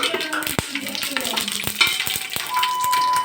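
Spices frying in hot oil for chicken curry: a bright, crackling sizzle with sharp clicks and scrapes of a utensil stirring against the pan.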